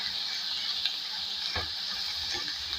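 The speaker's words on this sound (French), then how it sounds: "on le cuit dans l'huile d'ail" A ground eggplant mixture fries in garlic oil, giving a steady, dense sizzle close by, with a few faint clinks of stirring and no talking.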